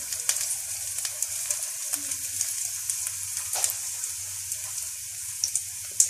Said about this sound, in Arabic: دابا بعد ما تشحرات البصله غادي نزيدو لها الفلفله دوائر